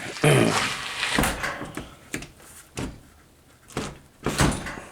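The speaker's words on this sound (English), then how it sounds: "unable to push the door shut" A door in a garage being pushed shut by someone with a broken hand, heard as a series of knocking thumps and rattles at close range, with a voice briefly at the start.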